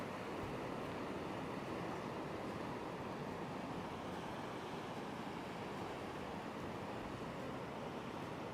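Surf rolls steadily onto Klong Prao Beach on Koh Chang Island on a morning walk, a continuous broadband wash with light wind, even in loudness throughout and no voices.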